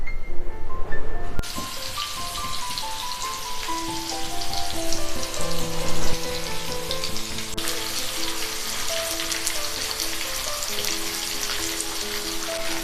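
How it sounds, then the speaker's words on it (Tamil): A large trevally fish fries in groundnut oil on a flat tawa over a medium flame, giving a loud, steady, close crackling sizzle with no voice, jumping up in intensity partway through. "இந்த மீனை நாம் மீடியம் ஃப்ளேமில் வச்சு வரப்போங்க."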